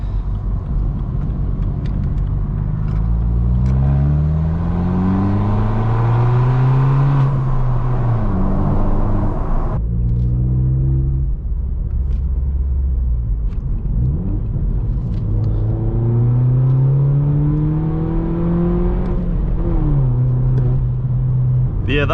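Straight-piped BMW 1 Series F21 droning loudly while driving at night, its exhaust note rising and falling through repeated gear pulls, a deep steady rumble filling the whole stretch with no talking.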